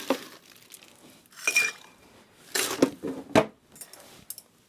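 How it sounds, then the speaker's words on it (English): Ice clinks and rattles into cocktail glasses for a Byrrh-based QuinQuina drink, several bright clattering bursts spaced apart with quieter gaps, close and moderately loud, with no talking. "And so both of these get iced."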